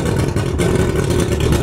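Mercury outboard engine on a 1997 ProCraft boat running steadily at close range, a dense continuous mid-range drone with no pauses.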